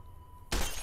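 In Fallout: New Vegas, a gunshot shatters a sarsaparilla bottle, giving a sudden loud burst of breaking glass after a faint tone and quiet background.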